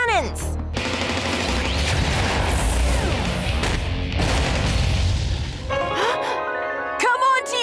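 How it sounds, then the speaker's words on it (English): Cartoon laser cannons blast in a dense, continuous barrage of booming, crackling shots that fill most of the moment, loud and close, before it thins out into scattered higher tones near the end. "Laser cannons!"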